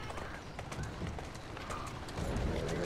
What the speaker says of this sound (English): This horse and carriage stuff is not for me.